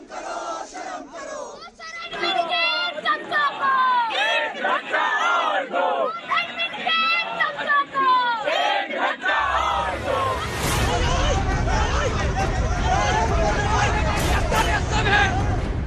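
Students at a late-night protest on the JNU campus in Delhi chant loudly in unison, with slogans rising and falling in call-and-response rhythm. A dense, rumbling crowd roar and shouting swell in the second half.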